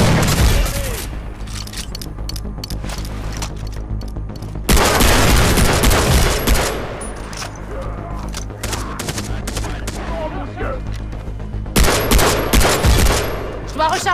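Bursts of rapid automatic gunfire and heavy booms, including a grenade blast, erupt loud and close during a cooperative Far Cry 3 shootout, with sustained firing between the louder explosive surges.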